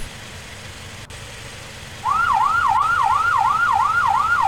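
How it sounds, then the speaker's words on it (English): Police car siren sweeping up and down in a steady repeating wail, starting abruptly after a couple of seconds of low traffic rumble and continuing loud and close. "Do you hear his siren?"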